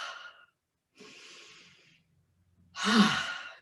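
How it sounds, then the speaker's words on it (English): Deep cleansing breaths during a seated chair yoga session: a soft inhale, a longer airy breath, then a louder, fuller exhale, each separated by brief silence, with no talking. "Take a few deep cleansing breaths. And we do that by breathing in and"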